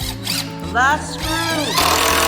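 A power driver sinks the last screw into pallet wood while furniture is assembled, a short whining, squealing motor burst whose pitch rises and falls, fairly close.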